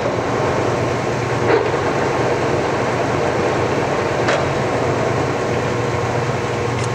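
A Harrison gap bed engine lathe, 22 32 x 120, with a D111 cam lock spindle, runs at speed with a steady, even mechanical hum and whir, fairly loud and constant, with a couple of faint clicks.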